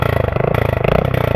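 Motorcycle with a modified, freshly painted exhaust revving close by, giving a loud, continuous, rapidly pulsing engine note with slight rises in pitch.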